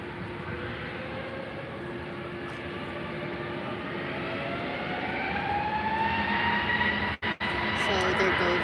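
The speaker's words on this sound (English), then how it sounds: "The A321neo is the one that's taking off now" A Wizz Air A321neo takes off toward London Gatwick, its engines a loud, steady roar with a rising whine that builds across the clip, close and continuous, with no voices over it.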